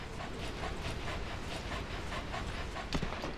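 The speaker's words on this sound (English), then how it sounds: "I apologize for D-Dog's constant panting" D-Dog, the companion wolf dog in Metal Gear Solid V, pants in quick, steady, rhythmic breaths that sound fairly quiet and close, under a faint rumbling background.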